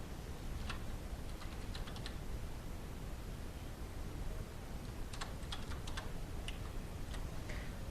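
Quiet typing on a computer keyboard while editing text in Canva, with short bursts of light clicking keystrokes separated by pauses, over faint background hiss.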